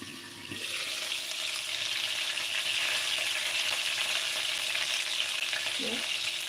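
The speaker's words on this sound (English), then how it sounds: "there's the chicken I just turned over the second batch" Pieces of chicken for brown stew chicken, the second batch just turned, frying in a pan with a steady, dense sizzle and crackle throughout, fairly close and moderately loud, no voices.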